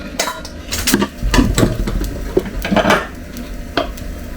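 A utensil scrapes and clinks against a pot as oxtail meat is lifted out of the peanut sauce for ndolé, a busy series of close metallic scrapes and knocks over a faint simmering hiss.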